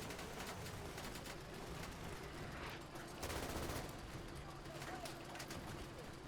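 Gunfire in the video game Easy Red 2 during a French campaign battle, dense continuous rattling shots under a faint distant voice, with a heavier burst near the middle.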